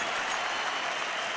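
Spectators at a CS:GO grand final between Astralis and SK Gaming on Mirage at BLAST Pro Series 2017 roar and cheer in a packed esports arena, a dense, steady wash of crowd noise with no break.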